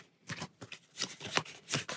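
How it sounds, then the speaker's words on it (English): Playing cards riffled and shuffled back into a deck during a tabletop adventure card game, several quick papery bursts in a row, close and alone. "And shuffle that back into our deck."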